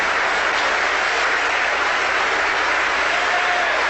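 Justice Department employees lining a balcony applaud a speaker, the clapping a dense, even, somewhat distant wash with a narrow, dated broadcast quality, sustained at constant loudness.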